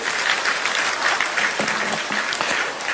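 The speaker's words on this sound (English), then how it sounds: "Please let us give a big thunderous applause to the Vice President" A crowd at a leadership handover ceremony applauds the Vice President, a dense, steady patter of clapping filling all three seconds, with a brief voice briefly heard within.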